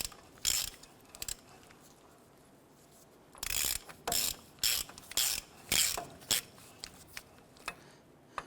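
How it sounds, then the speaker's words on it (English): A ratchet clicks in short repeated bursts as a 27mm socket tightens the front wheel bearing nut on a 1993-1997 Ford Ranger while the brake rotor turns; about a dozen close, sharp ratcheting strokes follow a quiet pause. "I'm going to go ahead and use a 27mm socket on this, and we're going to tighten this down as we rotate the brake rotor here"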